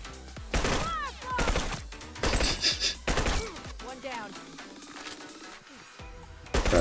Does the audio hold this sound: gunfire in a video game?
yes